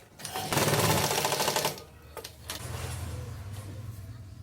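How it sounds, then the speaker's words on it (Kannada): A sewing machine runs in two bursts while stitching fabric for a simple hidden pocket in shorts, a loud close whirring run followed by a quieter, steadier stretch of stitching. "ಇಲ್ಲೊಂದು ಫಸ್ಟು ಸ್ಟಿಚ್ ಮಾಡ್ಕೋರಿ ಈ ಥರ."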